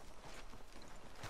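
Horse hooves walking in the video game Red Dead Redemption 2, a faint and steady clip-clop that sits low under a dense wash of background game noise.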